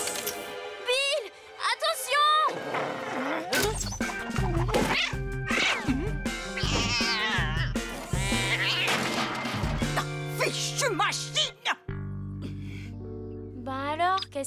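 A cartoon cat in the 3D animated series Boule et Bill meows and yowls in drawn-out rising cries, mixed with thwacks, music and voices of the characters talking.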